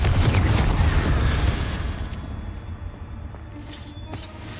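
A fiery Confringo spell explosion in Hogwarts Legacy opens with a loud booming blast that rumbles and slowly fades, followed by a smaller pop and burst a few seconds later.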